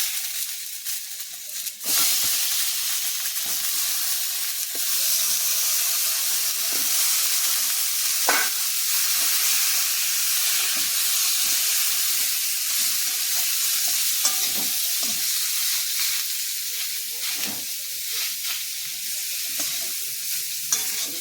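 Cut eggplant pieces sizzle steadily in hot oil with turmeric masala, a continuous bright frying hiss broken by occasional scraping stirs, close and fairly loud with no voices.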